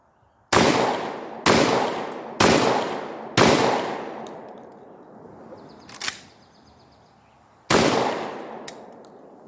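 Loud, near shotgun blasts, a 20 gauge pump and a Lynx 12 AK, fired in a quick series of five evenly spaced booms with short reverberant tails, a clank between, then one more blast after a pause.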